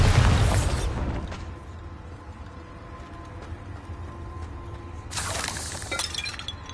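Bombarda spell explosion in the video game Hogwarts Legacy, a loud shattering blast at the start that fades into a low rumble, followed by a second crackling burst, with no talk.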